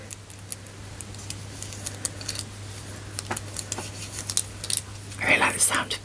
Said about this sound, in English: I really like the sound of people's rings clacking.